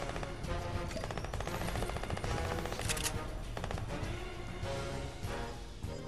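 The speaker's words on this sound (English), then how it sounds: "Someone really trying to shoot me?" Dense rapid gunfire in Fortnite, bursts of automatic shots and cracks coming in close, loud and continuous.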